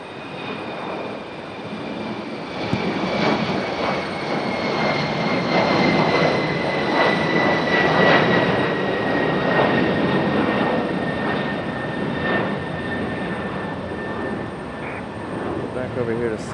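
A passenger jet at Raleigh Durham airport roars in a long, steady swell with a whining turbine tone that slowly falls, heard at a distance under wind and rain, with someone talking over it.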